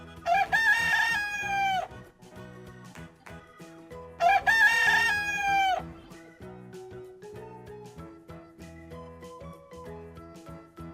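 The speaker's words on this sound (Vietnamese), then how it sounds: "Con gà, con gà." A rooster crows twice, each loud, drawn-out cock-a-doodle-doo rising and then falling away, heard over a light musical backing with a gap of a few seconds between the calls.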